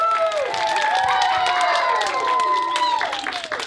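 A children's story-time audience cheers and claps loudly, high excited young voices shouting over steady clapping throughout, fading slightly at the end.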